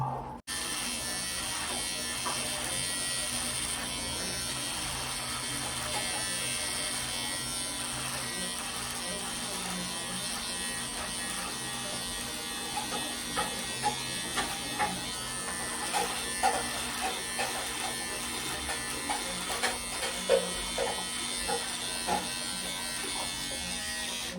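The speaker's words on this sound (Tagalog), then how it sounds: "let's get this thing started. Let's do this shaver now" An electric shaver shaving a man's beard gives a steady, close, continuous buzz that lasts throughout. Small scratchy bursts sit on top of it during the later half.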